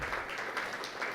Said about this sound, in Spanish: Le damos ofrenda de palmas al Señor